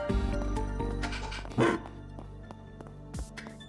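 Robot dog in the role-playing game Trails Through Daybreak barking several times, a loud opening bark followed by a few sharper yips over steady game music.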